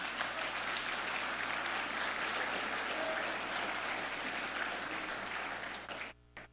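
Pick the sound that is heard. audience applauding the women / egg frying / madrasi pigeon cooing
audience applauding the women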